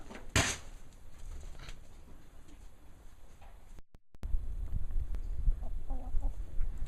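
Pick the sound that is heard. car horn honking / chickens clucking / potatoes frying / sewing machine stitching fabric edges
chickens clucking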